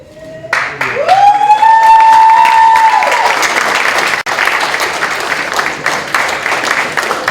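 Audience applause at a high school signing day ceremony, loud and close. A whistling tone rises over the clapping early on, and the sound dips briefly before the clapping continues.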